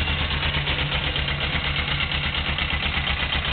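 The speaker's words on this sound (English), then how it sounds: "Running bike." A 1999 Suzuki GS500 motorcycle engine running at idle, a steady, close, even low throb with a regular pulsing rhythm and no voices.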